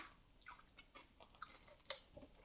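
Crisp, close crunching bites into a Dubai chocolate pistachio treat with a soft filling, several quick irregular crunches over a couple of seconds, quiet overall with no talking.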